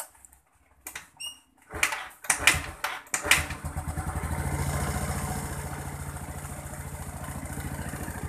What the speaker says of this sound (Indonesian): Terus kita hidupkan untuk motornya ya